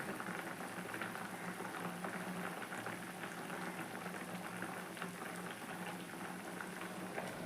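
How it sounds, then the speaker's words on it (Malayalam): Tuna fish head curry bubbling on a stove, a dense steady patter of small bursting bubbles, close and fairly quiet, without pause for the whole stretch. "നമ്മുടെ ചൂരക്കറി ഇതാ അടുപ്പിലിരുന്ന് നന്നായിട്ട് തിളച്ച് വരുന്നുണ്ട്"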